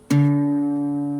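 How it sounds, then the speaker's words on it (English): A single open fourth (D) guitar string is plucked once and rings out with a steady, sustained tone that fades only slightly. "the 4th string sounds like this."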